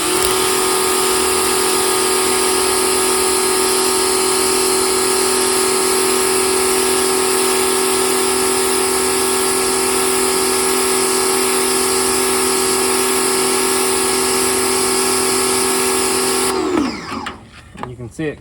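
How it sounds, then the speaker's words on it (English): A pressure washer spraying a stain off cement, a loud steady hissing whine with a constant motor hum that runs unbroken for about sixteen seconds, then abruptly shuts off into quieter rustling. "I'm going to see if I can get that stain off using this pressure washer"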